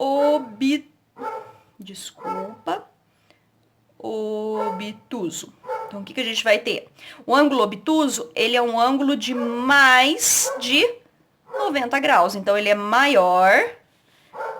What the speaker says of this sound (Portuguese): Desculpa o barulho do cachorro, é o meu que tá aqui latindo